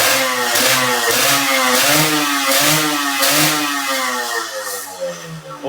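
A Yamaha RXZ two-stroke motorcycle with a tuned setup revs hard and close, its engine rising and falling in repeated throttle blips with a raspy, buzzing note, easing off toward the end.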